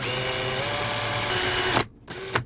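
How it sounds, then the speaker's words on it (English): Power drill boring mounting holes for a small fan in a smart charger housing: a steady, loud whine runs for nearly two seconds, cuts off, then a second short burst follows. "So let's have a drill."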